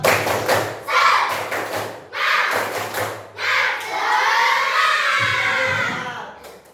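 Primary school pupils in a fifth-grade maths class clap a rhythmic spirit chant in quick bursts of claps, then break into a loud, excited shout together, with an adult voice briefly between bursts.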